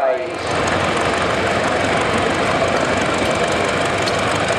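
An old Minneapolis tractor engine, mounted crosswise, runs at a steam and antique engine show. It makes a loud, continuous, close-up rumbling clatter with no breaks.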